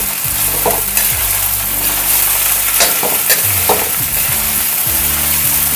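Soaked sabudana being stirred in a pan over a low gas flame, a continuous close sizzle with scraping spoon strokes and occasional clinks against the metal, no voices.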